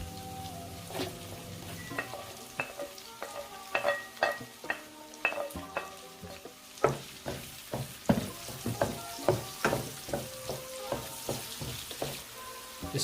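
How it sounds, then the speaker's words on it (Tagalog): Lomi ingredients frying and being stirred in a pan until golden brown, with steady sizzling broken by repeated sharp scrapes and clatters of the utensil against the pan at an irregular rhythm, close and moderately loud. "Stir it until golden brown in color before adding our onion."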